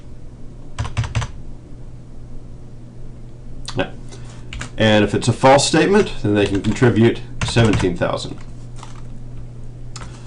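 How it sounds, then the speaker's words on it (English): Bursts of quick keyboard typing, short clusters of clicks close by, with a person speaking in the middle between the typing runs. "And you can see as I'm typing this in"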